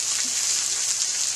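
Steady rain falling outdoors during a family vacation, a continuous bright hiss of drops with no distinct pattern and no talking.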